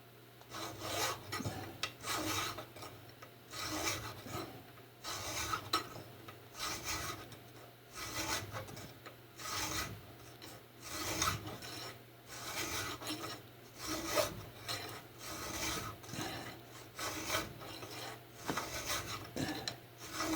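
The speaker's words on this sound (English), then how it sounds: "I'm using a fairly coarse file." A coarse hand file rasps across the soft cast metal of a hydraulic crimper in steady, repeated back-and-forth strokes, close and fairly quiet, continuing rhythmically throughout with no talking.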